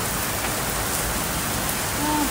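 Heavy rain pouring steadily as a dense, even hiss, close and loud throughout, with no voices over it.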